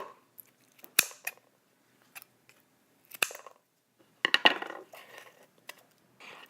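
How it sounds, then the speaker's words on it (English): Several sharp scissor snips cutting dried mango come in short bursts separated by pauses, crisp and close, with a crinkly crunching texture on a few of them. "you just cut a piece of dried mango with a scissors"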